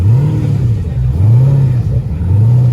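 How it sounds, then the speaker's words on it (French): A BMW accelerating away, with a loud, close engine note rising and falling in repeated revving sweeps over a short burst, near a roadside. "La BM qui se barre là."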